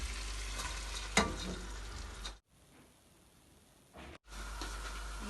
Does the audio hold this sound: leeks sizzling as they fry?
yes